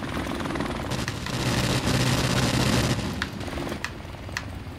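A helicopter in Call of Duty Modern Warfare Remastered gives a loud, close rotor thump, joined by sharp bursts of gunfire.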